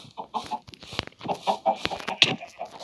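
Several Minecraft chickens cluck and squawk in short, scattered bursts, close by, with a few sharper calls standing out among the chatter.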